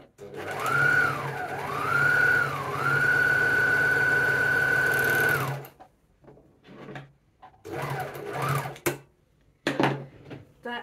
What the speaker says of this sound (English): and then I overlock it